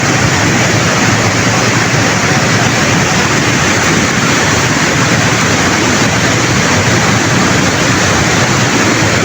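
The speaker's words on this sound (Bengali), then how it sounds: "এখনো ফিল্টারের মধ্যে দিয়ে পানি প্রবেশ করছে" Water flowing through a filter into a cooling tower tank at a fertilizer factory, a loud, unbroken rushing roar from start to finish.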